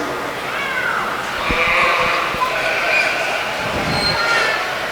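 Montadale January ram lambs bleat in a sheep show ring, their wavering calls repeating over a constant crowded-hall hum.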